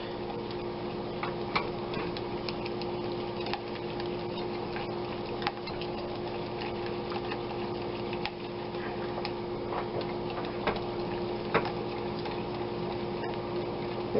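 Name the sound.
whisking melting butter in a pot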